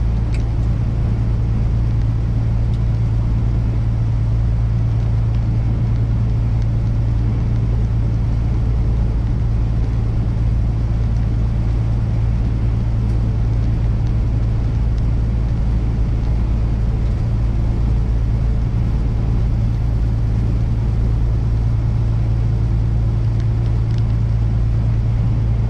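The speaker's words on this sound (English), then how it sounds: "just roll down the highway" A flatbed truck rolls steadily down the highway, with a constant deep engine and road rumble droning evenly throughout and no voices.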